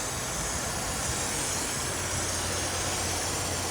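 A Chevy engine idles steadily after a PCV modification, a continuous broadband hiss and hum with a low steady tone underneath, heard up close and without speech.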